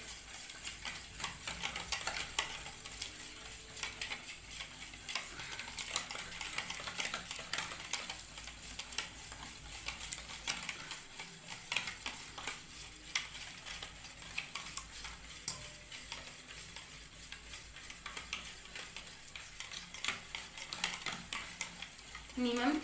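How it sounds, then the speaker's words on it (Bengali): Eggs and sugar are whisked together for a Christmas cake batter, a fast, steady, rhythmic clicking of whisk against bowl that continues without pause. "ডিম আর চিনি একসাথে যতক্ষণ না গুলে যাবে, মানে মিক্সড হয়ে যাবে আর কি, ফেটিয়ে নেবো ভালো করে।"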